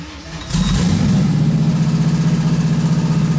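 A Gen 3 LS V8 built to 800 horsepower on stock internals cranks and fires, then settles into a loud, steady, lumpy idle with a rhythmic knocking from the loose lower end. Close and continuous, with no voices.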